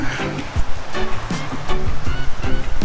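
Surf rolls onto a beach at Polillo Island, loud and near, with repeated wave wash and breaking bursts across the whole span and no talk.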